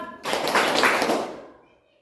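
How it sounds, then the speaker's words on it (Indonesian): An elementary class in Bali claps hands three times on cue, a short burst of quick claps that fades out, close and fairly loud. "Kalau tepuk malam, tepuk tangannya 3 kali."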